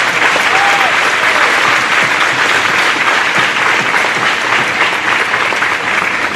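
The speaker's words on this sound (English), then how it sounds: "Let's give them all athletes another round of applause." Loud, sustained applause from a high school sports banquet crowd honouring its athletes, a dense, steady wash of clapping with faint voices mixed in.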